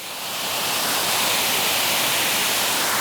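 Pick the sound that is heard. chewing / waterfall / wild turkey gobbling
waterfall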